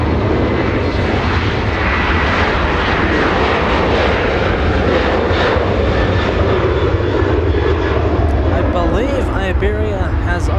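An airliner taxies at Los Angeles International Airport, its engines a steady, loud broadband roar that fills the whole stretch, with faint whining tones rising near the end.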